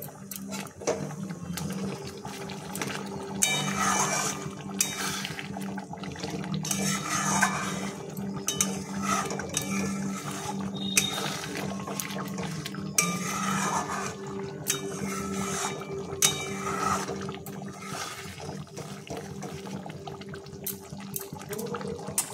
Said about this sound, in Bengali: মশলাটা হয়ে গেছে, এবার পনিরগুলো দিয়ে দেবো।